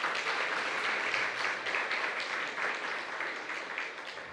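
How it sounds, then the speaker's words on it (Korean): A church congregation applauds to welcome visitors during a Sunday morning service, a full, even clapping that holds steady before gradually tapering off. "또 박수로 한번 환영하시죠"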